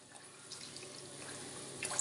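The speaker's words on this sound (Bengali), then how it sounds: "এবার গরম জলটা দিয়ে দিলাম।" Hot water pours into a pan of egg curry in a faint, steady liquid stream with light splashing, quiet and continuous throughout.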